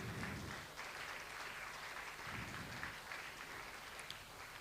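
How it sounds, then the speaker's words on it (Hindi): At an HSRC convocation ceremony, an audience claps for a student called to the stage, a faint, steady wash of applause from a large hall lasting the whole stretch. "और ज़ोर से ताली हो सकती है"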